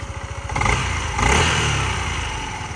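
A 2018 Yamaha Majesty 155 S scooter engine runs close by with a steady pulsing putter that swells twice with brief throttle blips, no voices.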